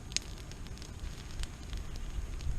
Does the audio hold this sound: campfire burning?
yes